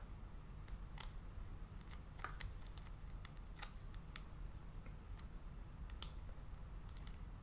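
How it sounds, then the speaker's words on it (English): Scissors snipping excess tape off a handmade embossed paper Christmas ornament, a series of quiet, sharp, irregular clicks and snips close up over a faint hum. "the rest of it I will just snip right off"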